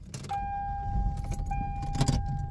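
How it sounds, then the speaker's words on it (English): Keys jangle and a car engine turns over and starts up close by, with a steady tone running through the short burst and no talking. "My car start right up."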